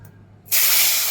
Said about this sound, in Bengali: বন্ধুরা তেলটা আমার গরম হয়ে গেছে, এবার আমি মাছটা ভাজবো।